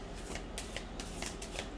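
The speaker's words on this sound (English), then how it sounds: "I'm going to shuffle one more time to see if I can get one or two more" A deck of oracle cards being shuffled up close, a steady run of crisp riffling and sliding card noise with regular papery bursts and no voice.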